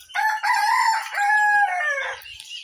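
A chicken's drawn-out crowing call rings out in a farmyard with chicks and ducks. It is fairly close, with rising and falling tones over a couple of seconds and no talking.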